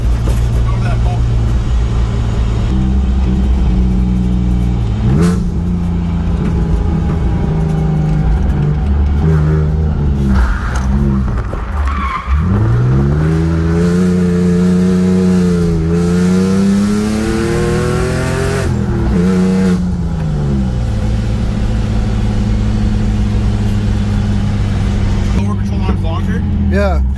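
An E46 BMW project drift car with preloaded rear springs revs hard and loud, its engine pitch swooping up and down repeatedly through long slides, heard from inside the cabin with occasional voices.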